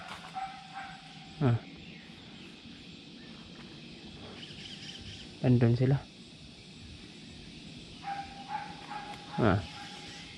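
Several dogs bark in short bursts at a distance, with a louder cluster in the middle, while a person speaks briefly nearby.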